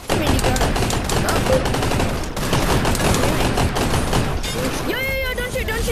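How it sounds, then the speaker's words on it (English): A minigun fires in rapid continuous bursts in the video game Gun Raiders, loud and dense, a long stream of shots with a short pause near the middle and a different electronic effect toward the end. "I heard it's a minigun"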